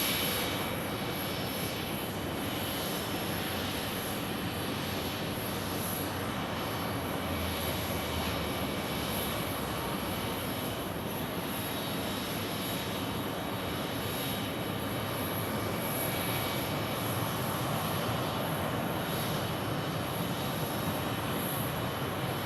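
Jet airliners departing Phoenix Sky Harbor airport produce a continuous broad roar, steady and distant, with no voices over it.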